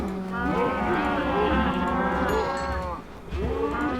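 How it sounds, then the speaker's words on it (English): Cattle in the Minecraft video game moo in a low, drawn-out call, one long moo followed by a brief pause and a second moo starting near the end, loud and clear with no talk. "Cows."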